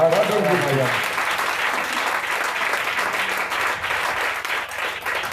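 A church congregation at a year-end service applauds loudly and steadily, a dense, continuous wash of clapping that holds its level throughout, with a voice briefly audible at the very start.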